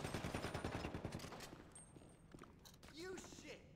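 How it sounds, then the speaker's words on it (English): Rapid automatic gunfire from GTA V rattles in a dense burst, then gives way to scattered quieter shots and game sounds, with voices talking over it. "Their guys are shooting us, crap."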